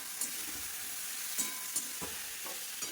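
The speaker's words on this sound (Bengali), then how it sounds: "আর এদিকে তো পনির হচ্ছে পনির মোটামুটি ভাজা হয়ে গেছে" Paneer frying in a pan, a soft continuous sizzle with a few light scrapes and taps of a spatula, fairly quiet and close, no talking.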